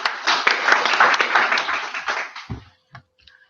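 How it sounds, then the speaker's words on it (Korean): Audience clapping at a business presentation on a smart-learning venture, a dense burst of many hands for about two and a half seconds that then stops abruptly, leaving a few scattered low thumps. "자, 박수 한번 모시겠습니다."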